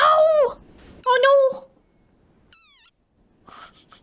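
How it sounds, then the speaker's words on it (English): A small angry frog gives a high, squeaky war cry, several sharp squeals separated by short pauses, close and loud like a dog toy. "this is a sonorous war cry. Oh, it's a war cry! Of a very angry frog."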